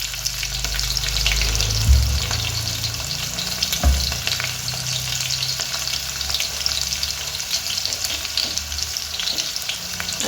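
Garlic fries in oil for a fenugreek bhaji, a steady close sizzle broken by a few stirring knocks.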